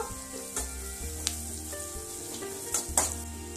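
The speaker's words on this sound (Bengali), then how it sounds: "কাঁচা গন্ধটা যাতে চলে যায় ততক্ষণ এটা ভাজবো। মশলাটাকে একটু ভালো করে কষিয়ে নেব।" A spice paste of onion and garlic for a mutton liver and potato curry sizzles steadily in a hot pan, with a few scraping stirs and soft clinks; no talking.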